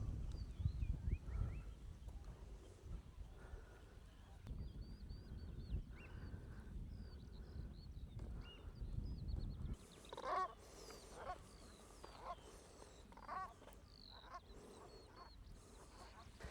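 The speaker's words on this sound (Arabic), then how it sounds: "ما في غير صوت العصافير." Faint small birds chirp in scattered calls over a low outdoor rumble on Neuwerk island in Germany. The chirping grows a little busier partway through.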